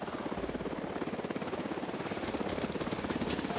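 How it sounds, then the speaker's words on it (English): Helicopter from the video game Ghost Recon Wildlands, a steady, fast rotor chop and whining engine buzz holding at a loud, constant level throughout with no voices. "Chopper inbound."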